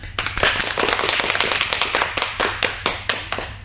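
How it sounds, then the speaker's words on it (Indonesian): Classroom students clap for a presenting group, a small room of close, distinct hand claps with uneven rhythm and sharp individual slaps throughout. "Mari kita beri tepuk tangan yang meriah untuk kelompok 2"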